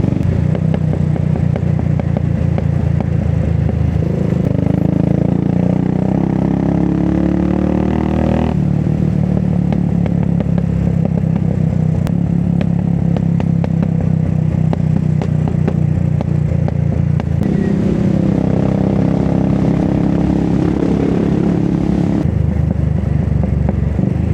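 A motorbike rides along in Fort Kochi, Kerala, its engine loud and close throughout with steady drone, shifting pitch as it speeds up and changes gear, and wind rumble mixed in.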